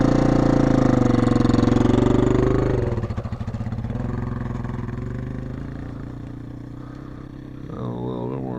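Motorcycle at half throttle, a close buzzing engine note that pulls steadily, then drops off and fades to a lower hum before rising again near the end.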